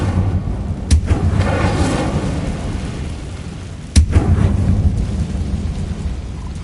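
The Incendio fire spell cast in a Harry Potter video game, with two sharp, loud bursts a few seconds apart, each followed by a rumbling roar of flame over a constant crackling bed.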